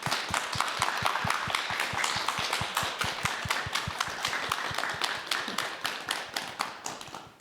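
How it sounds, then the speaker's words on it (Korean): Studio audience on a Korean morning talk show clapping to welcome a lecturer to the stage, a steady run of sharp individual hand claps that carries on for several seconds with no talking. "박수 부탁드립니다"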